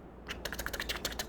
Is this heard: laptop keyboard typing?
yes